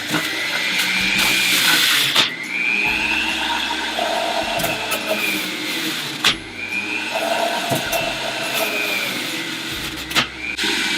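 A Breville 800JEXL Juice Fountain Elite juicer runs on high while carrots are fed through it, giving a steady loud motor whine with a grinding, rattling texture and repeated crunching surges as each carrot is shredded.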